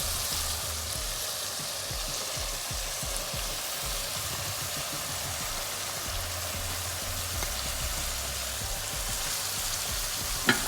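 Onion sizzles and crackles steadily in a hot pan alongside sautéed chicken gizzards, a dense, even frying hiss with occasional soft stirring taps throughout.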